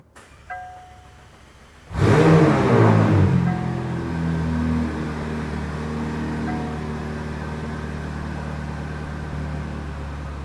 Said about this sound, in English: That way you can hear the exhaust.